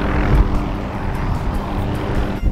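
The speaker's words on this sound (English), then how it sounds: "you got Navy planes flying all up in the air" Navy airplane flying overhead above a beach at Port Aransas, a loud broad propeller drone and rumbling roar that holds steady across the whole stretch, with no talk.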